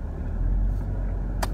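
A 2017 Chevrolet Camaro 1SS idles in Florida traffic, its V8 exhaust giving a steady low rumble close by with a brief swell partway through.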